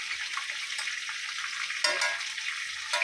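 Chicken pieces frying in hot oil, a continuous hissing sizzle with brief louder bursts of crackling, fairly close and alone with no voices.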